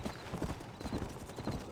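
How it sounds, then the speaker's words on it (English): Horse hooves clip-clopping in the Red Dead Redemption video game, a quick, close run of rhythmic hoof beats over a short stretch. "Control that horse, will ya?"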